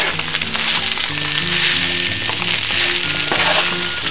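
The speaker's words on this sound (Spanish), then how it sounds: "Y echamos el ajo salteado, que ya lo habíamos salteado antes. Y lo empezamos a mezclar." Sautéed garlic tossed into chow mein noodles in a hot pan, sizzling and frying steadily with scraping stir strokes throughout, close and loud with no talking.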